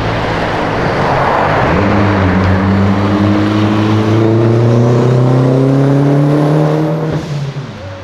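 A V8-swapped Nissan S15 drifting on a street roars loudly and continuously, its engine note climbing steadily in pitch as it revs up, then cutting off abruptly near the end.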